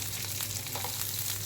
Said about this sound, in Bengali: বাদামটাকে আমি একটু ভেজে নেব